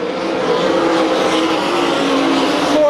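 Sprint race cars roar around the dirt oval at Tri-City Speedway in Franklin, Pennsylvania, during an All Star Circuit of Champions race. Their engines form a loud, sustained, close-up howl that holds steady throughout, with no voices.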